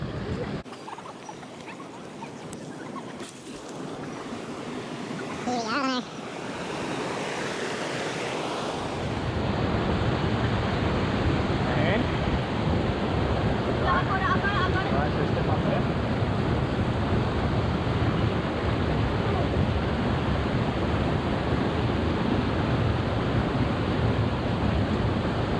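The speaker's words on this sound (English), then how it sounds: "somewhere where we can cross this, what is usually a tiny stream of water" A small stream swollen by heavy rain rushes over rocks along the hiking track to Mermaid Pools, a dense, steady roar of water that grows louder and fuller partway through and then holds constant, with wind buffeting the microphone early on.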